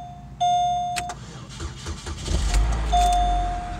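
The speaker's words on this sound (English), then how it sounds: "Car starts up," A Chevrolet Malibu engine cranks and fires up after a jump start, with an electronic chime and key noises first, then a rising low engine roar settling into a close idle.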